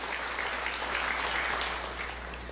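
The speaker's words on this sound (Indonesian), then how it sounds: "Yang setuju berikan tepuk tangan yang meriah buat Tuhan." A church congregation claps in praise during a sermon. A brief, even burst of many hands clapping together sounds over a low steady hum.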